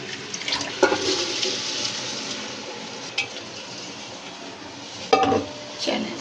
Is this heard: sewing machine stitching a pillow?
no